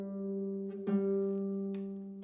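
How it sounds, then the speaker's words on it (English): A pitch pipe sounds a steady reed tone, held for about two seconds at moderate volume with a couple of faint clicks, and no one speaks. "That's the pitch pipe."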